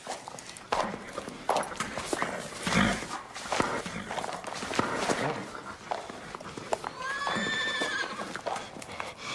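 A horse whinnies loudly near the end, with hooves clopping and shuffling throughout, up close, among other movement and faint background sounds.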